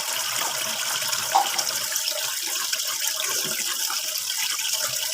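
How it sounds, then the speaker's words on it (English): Water runs and splashes steadily during the washing and rinsing of a messy item, a continuous broadband hiss with one small clunk partway through and no talking. "we're just gonna throw this liquid, then wash it"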